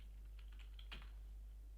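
A few quick keystrokes on a computer keyboard while code is being written, very faint and brief over a low steady hum.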